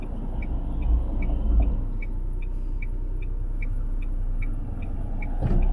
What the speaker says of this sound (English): So there's a lot of traffic.